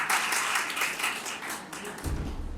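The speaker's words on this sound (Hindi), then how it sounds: "डॉक्टर अनिल गुप्ता जी का भी ताली के गड़गड़ाहट से अभिनंदन स्वागत है" A crowd welcomes a guest at a teachers' honoring ceremony with applause, a bright, busy patter of clapping that thins and wavers, with a deeper thump entering near the end.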